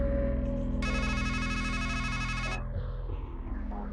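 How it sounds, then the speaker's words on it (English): A telephone rings inside the PC horror point-and-click adventure Strangeland (2021), a loud electronic warble lasting about two seconds over a low droning game ambience, with no talking. "It's a phone. You've heard a phone before."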